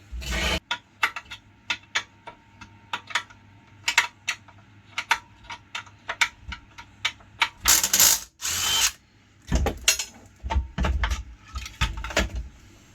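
A socket ratchet loosens the cylinder head bolts of a Honda G100 2.5 HP engine: rapid, crisp clicking in repeated bursts with short pauses, plus a few louder metallic clanks, close up and without speech.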